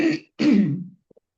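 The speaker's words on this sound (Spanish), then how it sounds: "esta carraspera me molesta mucho" A person clears their throat twice, a short rasp followed by a longer, louder one, close up with nothing else around it, during a Spanish-language lecture on Lacan.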